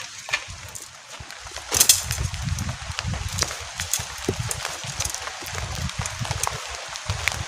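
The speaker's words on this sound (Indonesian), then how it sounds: "Kayak hujannya gede deh yo." Heavy rain drums on a camping tent during a storm, with irregular sharp taps and thuds of drops and gusts close by, steady noisy patter throughout and no clear talk.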